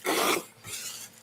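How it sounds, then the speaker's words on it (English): A person blowing their nose: a loud, short burst of breathy honking, followed by a softer second snort and sniffle close to the microphone. "Blow my nose."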